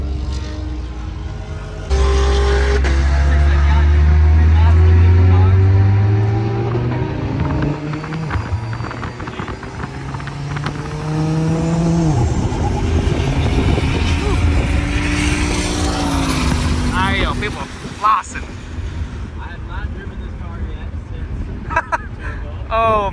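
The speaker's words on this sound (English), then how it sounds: "we're gonna go for a quick ride along in the Ratified car" Ratified-built 1,100 AWHP Audi RS3 engine heard from inside during a ride-along, a loud deep roar that climbs through rising gear pulls and shifts, with people talking and exclaiming over it.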